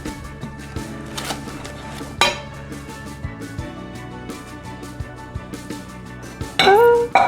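Ceramic pasta bowls lifted out of packaging, giving a series of bright clinks and knocks at close range with pauses between them and a louder clatter near the end.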